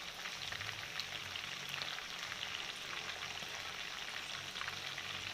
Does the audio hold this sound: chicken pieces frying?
yes